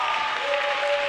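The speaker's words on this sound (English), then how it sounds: "Good clapping by Lucas Gerton liking that dive" Applause at a high school boys' swim and dive meet after a dive, a steady dense wash of clapping from a crowd echoing in an indoor pool hall, with a faint tone running underneath.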